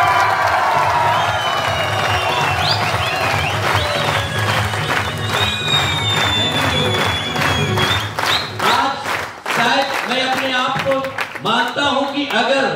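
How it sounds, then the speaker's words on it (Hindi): A live event audience claps and cheers for the four Patiyal brothers, a dense wash of applause with whoops that keeps going for about eight seconds before it thins out under a voice speaking over a PA. "चारों पटियाल ब्रदर्स के लिए दिल से तालियां और सीढ़ियां होनी चाहिए"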